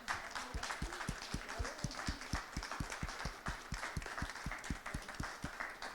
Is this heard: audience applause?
yes